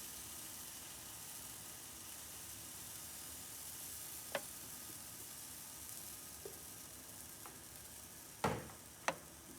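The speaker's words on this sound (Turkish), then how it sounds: "İstediğimiz büyüklükte tavamıza pankeklerimizi koyuyoruz." Pancake batter sizzles and fries softly in a pan, a faint steady hiss with a few sharp clicks and taps of utensils near the end.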